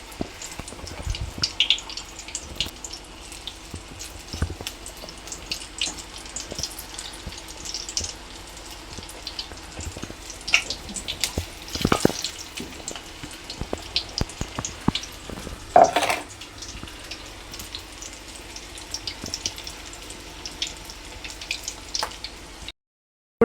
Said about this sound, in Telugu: మిరపకాయకి మనం కలిపెట్టుకున్న శనగపిండి బాగా అద్దుకొని నూనెలో వేసుకోవాలి.